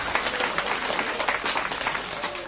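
A cabaret audience at a 1984 stage show breaks into dense, continuous applause, with steady rapid clapping filling the room at moderate distance.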